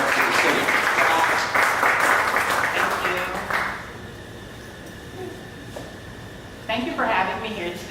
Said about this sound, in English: if everyone could please stand up, give a round of applause, and we'll welcome Dr.